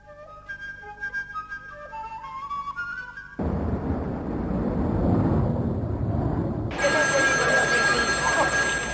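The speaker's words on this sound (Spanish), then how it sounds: "Carlos Arias coge el teléfono, no da crédito a lo que oye" A telephone rings with a repeating electronic tone for a few seconds before cutting out, then steady broadband noise and a bright tonal layer follow.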